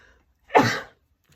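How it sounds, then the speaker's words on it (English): A single sharp sneeze from a person sketching beetles in watercolor, close and loud, bursting out of near silence and fading within half a second. "Apparently, drawing beetles makes me sneeze."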